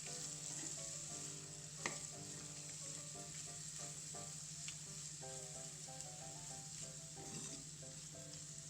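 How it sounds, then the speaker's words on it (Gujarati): Vegetables for veg pulao, with green chillies, sizzle and fry steadily in a hot pan, a constant close frying hiss with occasional small clinks of a spoon stirring. "હવે આને થોડીક વાર આપણે સડવા દઈએ, 2 મિનિટ સુધી સાંકળી લઈશું।"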